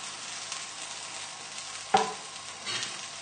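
A brandy cream sauce bubbles steadily in a pan on full heat, a continuous soft sizzling hiss broken by one sharp clink of a utensil near the middle.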